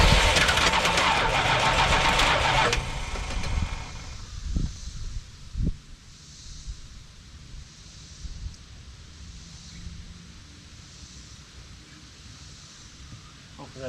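A 1981-82 Dodge 1-ton truck's engine cranks loudly for nearly three seconds, then gives way to quieter sputters and a few sharp knocks before a low idle settles under wind noise and faint voices.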